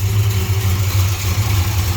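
A 1968 Chrysler Newport Custom V8 fitted with a Holley Sniper injection system idles with a steady, close, low hum that holds an even pitch throughout.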